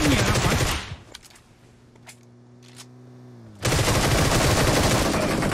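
Gunfire in a battle royale video game, loud bursts of rapid shots at the start and end, separated by a quieter stretch with a few faint isolated pops.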